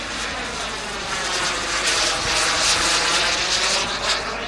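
A model F-14 Tomcat flies at the Little Gransden Airshow, its engine giving a loud, continuous roaring whine that swells as it passes near.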